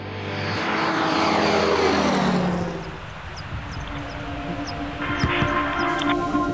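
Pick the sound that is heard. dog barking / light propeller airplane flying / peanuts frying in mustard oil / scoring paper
light propeller airplane flying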